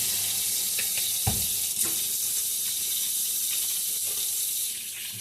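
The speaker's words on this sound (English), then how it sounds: "Washing hands. Washing hands." Water runs steadily from a kitchen tap while hands are washed at the sink, a continuous close hiss with a few soft splashes and clunks.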